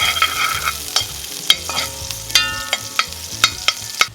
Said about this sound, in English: Don't be afraid to stir that much.